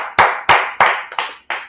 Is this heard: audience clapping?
yes